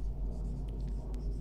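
Chalk or marker scratching in short, light strokes on a classroom board, faint over a steady low room rumble.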